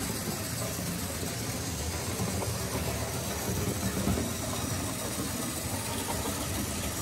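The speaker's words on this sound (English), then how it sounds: "I just love the sound the models make on the rails" A Tri-ang Hornby model locomotive running on rails, a dense continuous rumble and whir with fine clattering texture, close and steady for several seconds without talk.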